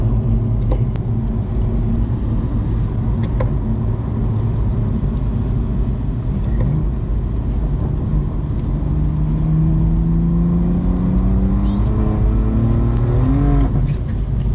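A BMW M2 Competition cruises steadily in sixth gear on a rainy road, its engine a loud, constant drone heard from inside the cabin, with a low rising tone near the end and road and rain noise underneath.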